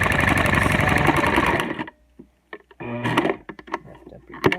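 A sewing machine stitches a fabric comfort face mask, running in a steady rapid whir, then stopping for a pause of small clicks and handling noises before starting up again in short bursts.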